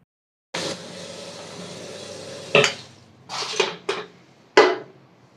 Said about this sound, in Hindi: अभी मैं बर्तन स्टैंड पर लगा देती हूँ